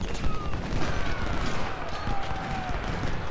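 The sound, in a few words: musket volley fire in the video game Ultimate General: Civil War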